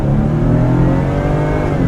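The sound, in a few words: 2015 Ford F-150 2.7L EcoBoost engine accelerating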